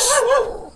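A dog barks once, a single loud close yelp-like bark trailing off, near a rice paddy where two dogs loiter.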